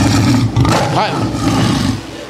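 A church congregation shouts together in imitation of a lion's roar, producing a loud, dense wall of voices that holds steady for about two seconds.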